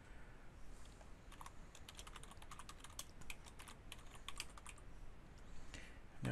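Someone types on a computer keyboard, a steady run of quick, light key clicks at close range, fairly quiet, with no talking.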